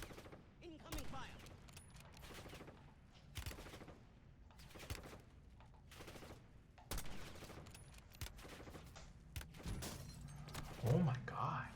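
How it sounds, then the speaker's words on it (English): Incoming gunfire in a Call of Duty video game, with repeated sharp bursts of shots and rapid fire crackling at moderate volume over a busy game mix, with some voice-like sound mixed in. "Incoming fire."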